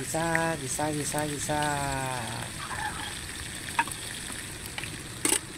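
Beef balbacua ingredients sautéing in a pan, with a loud hiss and sizzle, scraping stirs and a couple of sharp clanks, while a voice speaks briefly over the cooking early on.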